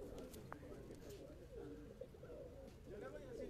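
Desi-style kaldu pigeons coo softly on a rooftop in Karachi, with repeated low throaty calls. Someone talks over them.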